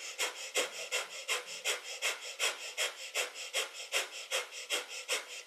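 Breath of fire during a kundalini yoga practice: rapid, even panting breaths forced through the nose, about three per second, close and breathy, repeating steadily with no talk.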